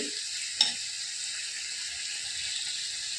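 Liver sautéing in a pan, a steady soft sizzle held at even loudness throughout, broken once by a brief sharp clink near the start.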